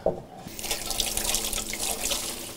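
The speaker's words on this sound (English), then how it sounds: "now I'm just going to rinse the leaves" Kitchen tap running steadily into a sink while greens are rinsed, a continuous close splashing rush of water that holds at an even level throughout.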